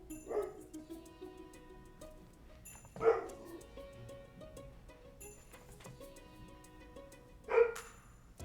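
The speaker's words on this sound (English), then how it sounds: "I'm sorry if you can hear my dogs barking." Dogs bark indoors at a distance in three separate short bursts, a few seconds apart, with quiet gaps between them.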